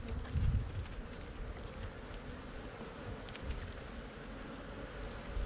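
Bees from a Santa Fe strain colony hum steadily outdoors, a continuous close buzz with light wind noise throughout.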